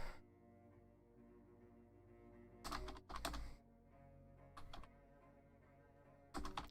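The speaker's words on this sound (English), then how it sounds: "Hold on, I'm typing something." Computer keyboard typing, close and quiet, in several short bursts of rapid clicks separated by pauses, over a soft background hum with no speech.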